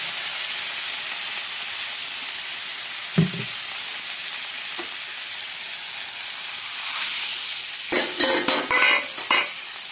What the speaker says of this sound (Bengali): তারপর সমস্ত পিষে রাখা মশলাগুলো আমি এবার তেলেতে ছেড়ে দিব।